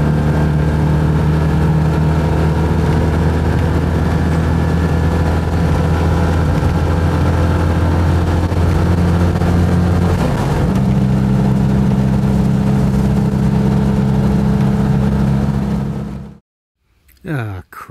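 Citroën 2CV with a new engine, leaking oil underneath, revving hard: a loud steady drone with strong low harmonics that dips briefly mid-way and picks up again before cutting off near the end.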